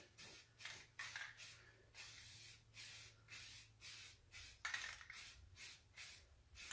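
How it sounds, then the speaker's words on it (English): Primer sprays from a can onto a wooden desk in about a dozen short, even hissing bursts with brief gaps between them, close and fairly quiet, with no talking. "So I'm going to go ahead and spray this."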